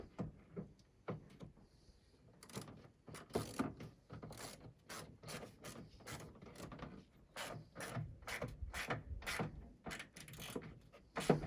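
A socket wrench ratchets in quick bursts of clicking strokes while working on a 2003 Vauxhall Corsa C SXi, close and fairly loud, with no voices.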